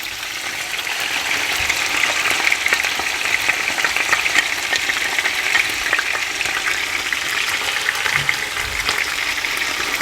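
Yogurt poured onto fried onions in a pan for Indian chicken biryani, bringing a steady, fairly loud sizzle and crackle close by with a bubbling wet hiss.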